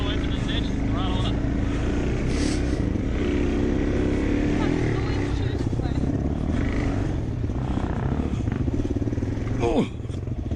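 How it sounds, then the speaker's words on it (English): Dirt bike engine drones steadily and loudly on a rough trail as it eases into a ditch and throttles up, with talk and shouting mixed in over the constant motor noise. "Slow into the ditch, throttle up."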